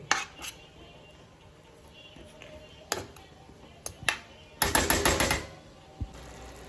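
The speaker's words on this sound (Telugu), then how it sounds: "యాడ్ చేసుకొని మంచిగా మిక్స్ చేస్తున్నా" Egg biryani masala being stirred in a pot, with sharp scattered clinks and scrapes of a spoon against metal, including a quick cluster of knocks, over a quiet background.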